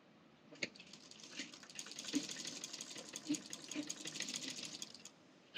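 A sewing machine runs steadily as it stitches the side seam of a short kameez, a quiet, continuous whirring with faint needle ticks throughout and no talk.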